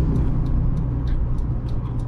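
A van pulls away and starts driving, its steady engine rumble and road noise filling the cabin with a continuous low drone and faint periodic ticks, with no talking.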